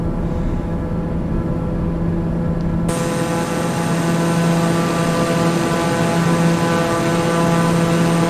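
A TBM 900 turboprop engine in a flight simulator game drones steadily throughout with a loud, constant propeller hum and tonal whine, which grows brighter and fuller a third of the way in.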